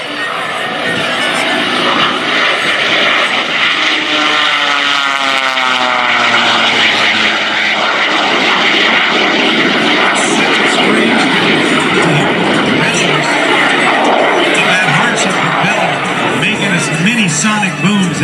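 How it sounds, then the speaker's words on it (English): A jet-powered Waco biplane roars past on a photo pass at an air show, loud and close, its propeller whine sweeping as it goes by, with an announcer talking over it. "a nice view of the plane as it comes by"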